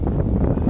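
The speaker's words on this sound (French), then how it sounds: "Le vent s'est mis à souffler à 20 nœuds là" A 20-knot wind blowing over a Lagoon 380 catamaran at sea, a loud continuous rushing roar buffeting the microphone for a brief moment, with no voices.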